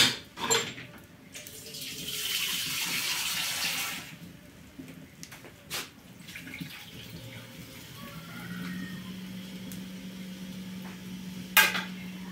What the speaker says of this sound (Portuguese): Colocamos um pouquinho só de água.